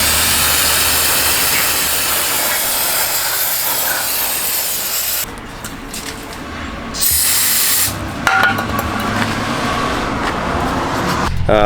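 Brake cleaner hisses loudly from an aerosol can onto car parts during an AWD Honda Civic K-series rebuild, a long continuous spray, then a short pause and further bursts up close.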